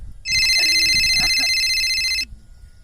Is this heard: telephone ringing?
yes